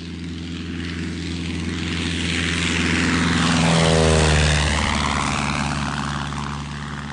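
A propeller airplane engine drones steadily as a sound effect in an audio drama, swelling to a loud peak as it passes close by and then easing off, with no voices over it.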